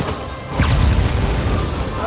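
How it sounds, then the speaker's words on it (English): Loud explosions from an episode of the Hawkeye series burst in with a deep rumbling boom about halfway through and roll on until the end, with voices in the room over it. "lot of loud explosions."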